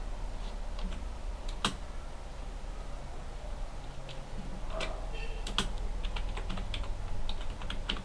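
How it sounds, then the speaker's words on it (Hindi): Fingers type on a computer keyboard, an irregular run of sharp, close key clicks with brief pauses over a low background hum, no talking. "मैं आपके लिए कुछ मैटर टाइप करके दूंगा जिसके अकॉर्डिंग आपको समझाया जाए"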